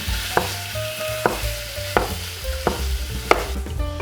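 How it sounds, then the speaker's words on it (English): Mince meat fries in a pan with oil while a big spoon breaks it up, giving a steady sizzle punctuated by regular scraping knocks about every half second, close with no talking. "Put the meat in. And break it up with a big spoon."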